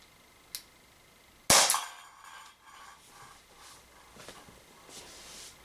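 An Umarex Walther PPQ T4E air pistol fires an aluminium ball: a faint click, then one sharp, loud snap with a brief clatter, followed by soft scraping and handling noises.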